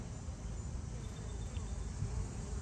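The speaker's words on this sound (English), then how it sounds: "there are an enormous number of bees in here" Honeybees hum and buzz around an overcrowded hive that has just had a third box added, a dense, steady, close drone with no voices.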